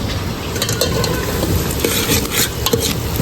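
A spoon stirs a frying curry with coriander leaves in a pan, steady sizzling under repeated scraping clinks of utensil against metal, close and continuous with no talking.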